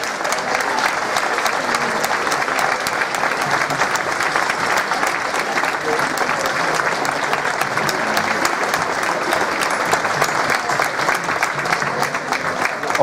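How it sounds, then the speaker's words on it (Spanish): Loud, dense applause from the crowd at a Santa Cecilia recognition ceremony in El Paso, honouring the Banda de Música de Punta Gorda. The clapping runs continuously and evenly throughout, with no voices over it. "Un fuerte aplauso también para ellos."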